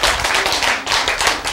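An audience clapping together in a lively, uneven patter of many hands, loud and close, with no talking over it.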